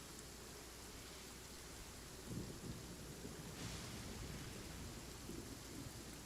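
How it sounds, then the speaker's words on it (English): Deep rolling thunder from a lightning strike in Genshin Impact rumbles continuously over steady rain-like hiss, swelling a little partway through, with no voices. "lightning just struck behind me"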